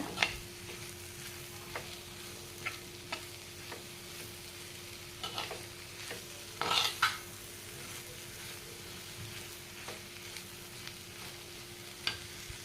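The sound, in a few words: sautéing banana flower stir-fry in a pan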